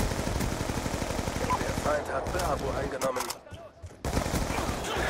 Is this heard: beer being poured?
no